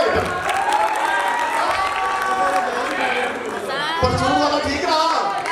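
An audience at an Urdu stage play applauds and cheers, a dense wash of clapping and voices that swells again near the end, with talk mixed in.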